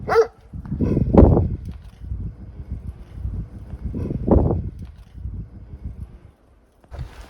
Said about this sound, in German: Als ich näher kam, konnte ich den Hund sehen. Es war ein großer Kangal.